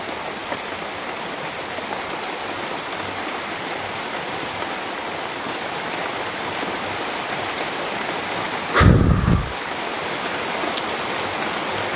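Steady rain falls outside a hut in the forest, a constant even hiss with one brief louder thump partway through and no voices.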